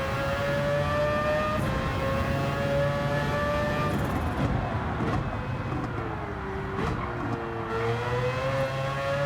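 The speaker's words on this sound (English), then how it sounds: "So it's the new Mazda RX Vision" Mazda RX Vision race car in Gran Turismo, its engine holding a steady high whine that climbs and dips through a few gear changes, loud and continuous with no talk over it.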